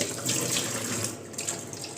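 Tap water runs continuously into a sink while dishes are washed, a close, steady splashing rush with slight shifts as the flow hits items, and no talk.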